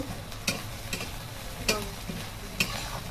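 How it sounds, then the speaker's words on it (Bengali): Dry red chillies fry in oil in a pan for a fish curry, giving a soft crackle under a few sharp spoon clinks and scrapes spaced about a second apart. "শুকনো লঙ্কা লাল করে ভাজা হয়ে গেছে"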